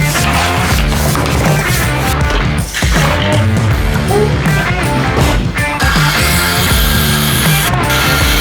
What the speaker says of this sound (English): Just need to extract these screws and we'll be good to go.